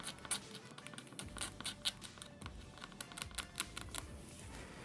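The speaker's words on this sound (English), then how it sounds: "So go ahead and do a backward scrape on that one there." Old adhesive being scraped off an iPad during a repair, heard as a close run of quick, dry scratching and clicking strokes at an uneven rhythm.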